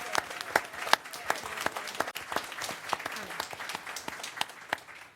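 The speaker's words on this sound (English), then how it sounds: "Can we give everyone a round of applause?" An audience at a commission general session gives a round of applause, a moderate bed of clapping with a few distinct louder claps standing out in a loose rhythm, fading slightly toward the end.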